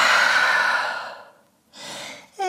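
A deep, drawn-out exhale followed by a short inhale, taken while holding a downward-facing dog pose in a flowing yoga sequence; close, clear and alone with no talking.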